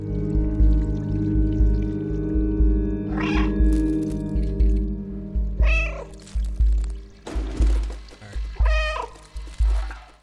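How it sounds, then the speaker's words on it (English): Cat meows from the game Stray, several distinct calls spaced a few seconds apart over a steady synthetic music or ambient bed, fairly loud and close with no talking. "You meow and it shows you where to go."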